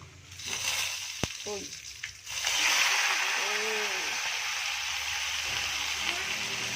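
Mustard greens hit a pan of browned garlic, setting off a sudden loud, steady sizzle that keeps hissing close by while someone talks over it.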